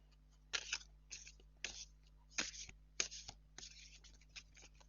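Egyptian tarot cards are shuffled by hand in short, crisp riffling bursts with brief pauses between them, close and quiet over a low steady hum.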